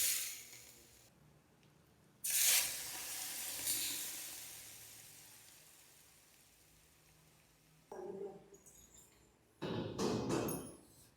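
Hot oil poured over chicken for a dum chicken biryani sizzles in three loud hissing bursts separated by quieter fading spells, with no voices.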